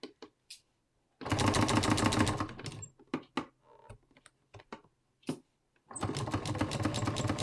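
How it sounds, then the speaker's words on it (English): Sewing machine stitching binding onto a fabric wall hanging, two sustained bursts of rapid mechanical needle clatter separated by scattered clicks and handling noises, close and clear. "I'm sewing on that fold line"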